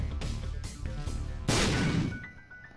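A bomb blasting open a secret room in The Binding of Isaac, a sudden loud burst after a few dull thuds, then a rumbling decay with small chimes at the end.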